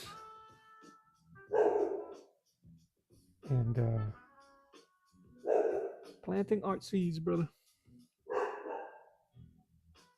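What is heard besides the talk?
dog barking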